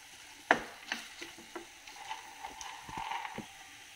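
Soaked cowpeas stirred and sautéed in a pan, a few sharp spoon clinks and scrapes over a light sizzle, close and fairly quiet, no talk.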